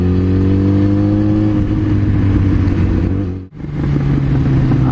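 A loud Yamaha FZ1 motorcycle engine, freshly oil-changed with Motul 7100 10W-40, idles close by with a steady low drone, briefly cuts out for a moment, then resumes with a rougher pitch.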